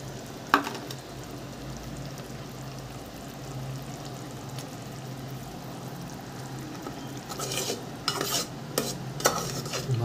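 Small peeled onions frying in a pan are stirred with a utensil, a steady soft sizzle under scraping strokes that grow busier near the end, close and fairly quiet.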